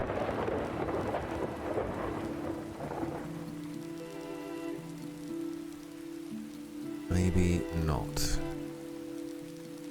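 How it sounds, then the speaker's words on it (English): Rain falls steadily in Farthest Frontier, a soft patter under sustained game music tones, with a brief thunder-like rumble late on; a voice speaks briefly near the start. "It's raining."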